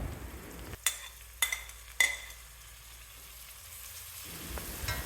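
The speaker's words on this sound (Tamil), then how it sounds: "புதினா மல்லி சேர்த்து அடிக்கடி கிளறி விட்டு 1 நிமிஷம் வதக்கின" Mint and coriander leaves are stirred and sautéed in a pot, with three sharp spoon knocks against the pot over a faint sizzle, then soft, low stirring noise.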